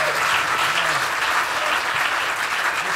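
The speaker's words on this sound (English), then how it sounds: "How about a big round of applause for Geoff here?" An audience at a bluegrass festival concert gives a steady, full round of applause for a few seconds, with a faint voice underneath at the start.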